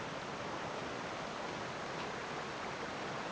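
Cascades and a waterfall at Oxford Falls in Sydney give off a steady, dense rush of running water, a constant broadband hiss that is moderately faint and unbroken, with no voices.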